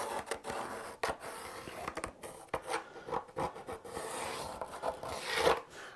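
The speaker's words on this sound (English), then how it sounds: "just reinforce that pencil line a bit." Steady scratchy rasping strokes, a pencil dragged repeatedly along a wooden bass guitar template, close and moderately loud with uneven rhythm and no talking.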